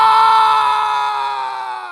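A cowherd in an animated Hindi horror story lets out a sustained, loud scream of fright beside a village pond, a high harmonic cry that slowly fades over two seconds with no other sound.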